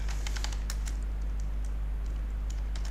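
Close, quick keystrokes on a computer keyboard come in uneven bursts of light clicks and taps over a steady low electrical hum, with nobody talking.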